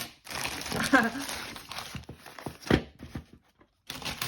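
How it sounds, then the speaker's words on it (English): Paper crinkles and rustles as it is pulled from a mail package of nail supplies, close-up in short bursts with a brief gap, while a voice talks over part of it. "I'm just going to take out the paper first"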